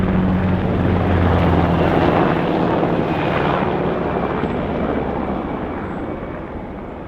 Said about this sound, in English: What was probably a rescue helicopter was flying through the valley.